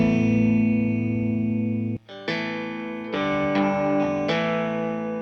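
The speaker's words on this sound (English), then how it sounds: "Let me show you what the low knob sounds like." Fuchs Overdrive Supreme guitar pedal played with distorted, sustained chords, the low knob switched off then turned fully up, giving a thick, loud overdriven tone with a brief gap and several re-struck chords.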